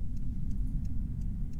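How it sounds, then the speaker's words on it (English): Hazard lights tick inside a car right after a rollover accident, a steady run of evenly spaced soft clicks about three per second over a low background rumble. "Hazard lights, glove compartment lock."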